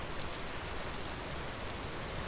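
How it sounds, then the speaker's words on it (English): Heavy rain pours steadily at night in the survival game Vintage Story, a dense, even hiss of falling water with no break, heard alone at a moderate level. "Well, the rain is pouring down and it's night time."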